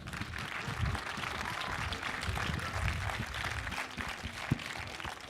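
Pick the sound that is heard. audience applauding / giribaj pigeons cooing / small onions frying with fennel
audience applauding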